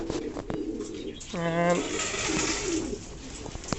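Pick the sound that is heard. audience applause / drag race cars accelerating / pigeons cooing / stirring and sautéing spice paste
pigeons cooing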